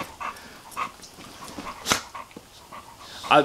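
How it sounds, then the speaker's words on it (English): A Pit Bull dog chews and gnaws on a bed, giving soft rustling and snuffling, light panting and a few sharp scuffs, close by with no talk. "Lucy, stop biting the bed."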